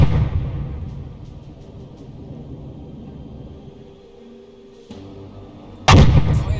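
A U-boat deck gun fires at a ship in the submarine game UBOAT: a low rumbling sea and engine ambience, then one sharp, loud cannon blast near the end.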